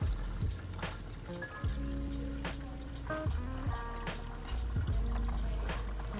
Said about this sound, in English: I'm gonna fill this water tank while it's out